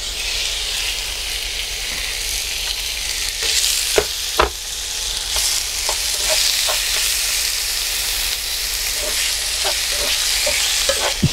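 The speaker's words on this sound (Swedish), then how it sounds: "I med kycklingen i pannan." Chicken for tacos sizzles in a frying pan, a steady, loud crackle broken by occasional clicks and scrapes of stirring. No voices are heard.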